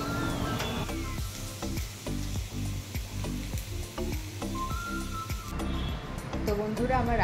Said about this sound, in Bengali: এই দেখো বন্ধুরা, মুচমুচে আলু ভাজা হচ্ছে